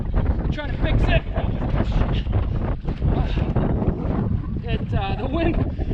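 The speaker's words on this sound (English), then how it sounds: "The wind picked up. I got white caps now. We got white caps on the lake." Strong wind buffets the microphone over choppy whitecap waves on a lake during a rough-water canoe trip, a constant loud roar with water sloshing close by and no clear talk.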